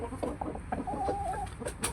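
Imported chicken clucking in short, close calls over a rustling farmyard background, with a brief sustained call in the middle.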